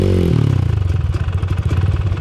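A trail motorcycle engine revs close up on a short trail ride, a throaty low growl that rises sharply at the start and then holds steady with a pulsing, uneven throttle for about two seconds.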